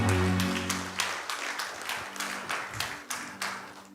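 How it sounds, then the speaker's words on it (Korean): A church congregation breaks into applause during a Korean sermon, a sustained wash of many hands clapping in rhythmic bursts throughout, fairly loud and without talk. "우리 하나님께 영광의 박수를 드리겠습니다."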